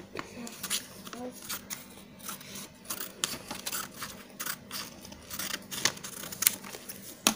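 Scissors cutting origami paper at close range, a run of small sharp snips and paper rustles at an uneven pace, fairly quiet.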